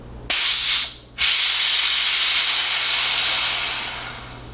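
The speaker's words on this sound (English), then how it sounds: "To do this, pull up on the pressure relief valve at the top of the lid." Pressurized CO2 bursts from the relief valve on a Corny keg lid in a loud, steady hiss, cuts out briefly after a second, then rushes on strongly and slowly tapers as the keg empties.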